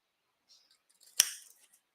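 A single quick snip of scissors or snips through card stock, one crisp cut preceded by a faint rustle, close and otherwise quiet.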